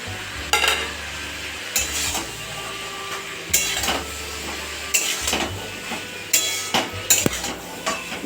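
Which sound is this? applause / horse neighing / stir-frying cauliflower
stir-frying cauliflower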